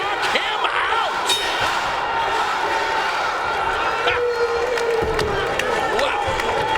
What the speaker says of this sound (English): And the crowd screaming, knock him out!